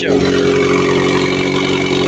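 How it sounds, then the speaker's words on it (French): A 1955 four-cylinder car engine idles steadily and loudly close by, a continuous rumbling drone with no pauses. "Je te laisse admirer le doux son de ce moteur de 1955"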